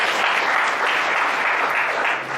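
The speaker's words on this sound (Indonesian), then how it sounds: "Berikan tepuk tangan ya buat Tuhan." A church congregation claps together during an Indonesian sermon, a brief, dense and even burst of applause that holds steady before easing off at the end.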